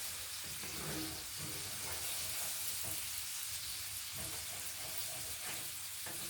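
Onions browning lightly in a pan with pork chop drippings for gravy give a steady, soft sizzle and hiss running throughout, fairly quiet and even, with faint scraping touches.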